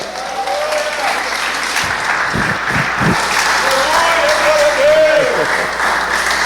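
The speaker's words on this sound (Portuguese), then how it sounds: "Dá uma salva de palmas para Jesus." A church congregation claps together for Jesus, a sustained wash of applause with a preacher's voice rising over it at moments.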